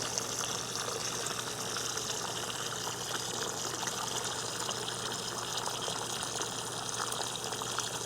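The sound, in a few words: water from a garden hose filling a container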